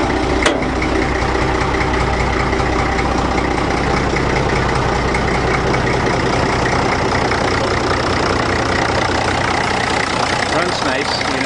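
A riding lawnmower with a big motor idles steadily in neutral, a loud, close, unbroken mechanical drone that holds through the whole stretch.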